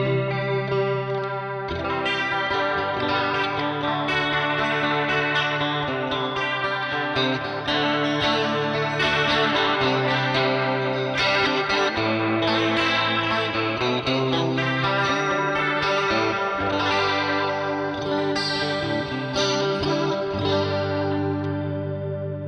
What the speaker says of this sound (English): just that kind of Leslie sound here.